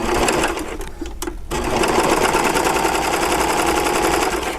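Overlock serger stitching a fabric sample, a steady loud rapid mechanical whirring that runs almost continuously, with one brief dip before resuming at full speed.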